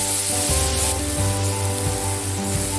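A tomato frying in hot oil in a pan, with a loud, continuous sizzle and hiss over a low background hum.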